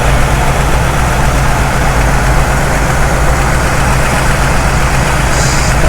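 A 1974 Chevrolet C10 pickup engine idles steadily and loudly up close, a constant low rumble with no talking over it.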